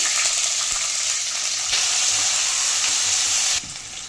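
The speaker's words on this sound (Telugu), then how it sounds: "ఆయిల్లో తరిగి పెట్టుకున్న ఆనియన్స్ వేసుకోవాలండి." Chopped onions and whole garam masala fry in hot oil in a pot for chicken pulao, giving a loud, steady, close sizzle with a few stirring scrapes and no voices.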